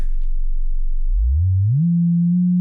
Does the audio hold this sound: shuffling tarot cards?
no